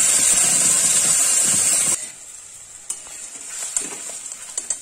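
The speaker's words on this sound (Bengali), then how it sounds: "কচু বাটাটা ছেড়ে দিচ্ছি, ফ্লেমটা একটু কমিয়ে নিলাম নাহলে ছিটকে যাবে।" Taro paste hits a hot pan with a loud, hissing sizzle for about two seconds, then settles to a quieter crackle with scattered pops and spatters.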